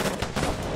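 Cannon fire in the pirate game Tempest, a dense rumbling barrage of booms overlapping in quick succession, loud and close, with no talking.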